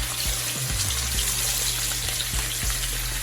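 Sea bass fillets frying skin side down in a pan, a continuous close sizzle with a few soft scrapes and bumps, alone without voices.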